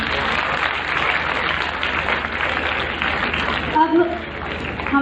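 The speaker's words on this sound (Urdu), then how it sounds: "ایک دفعہ پھر سے تالیاں بجاؤ مسلمانوں۔" Audience applause at an Urdu youth speech forum, a steady dense wash of many hands clapping throughout, fairly loud and close.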